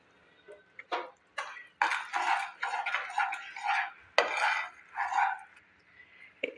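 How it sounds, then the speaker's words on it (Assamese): Jaggery stirred in a pan for chana chikki, with a spoon scraping and knocking in short, irregular strokes, fairly close and steady throughout, with no talk. "এইদৰে লৰাই থাকিব লাগিব, নহ'লে তলত লাগি ধৰিব"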